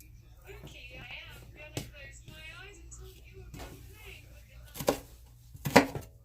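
A knife dicing onions on a cutting board, heard as faint, scattered taps under close, relaxed speech, ending in a couple of louder knocks.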